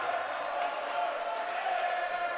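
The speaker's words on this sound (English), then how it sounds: "the crowd is letting him know it" A college basketball crowd at a Lawrence Tech home game reacts after a missed shot, a steady murmur and jeering from the stands with a pep band in the arena, moderately distant and continuous.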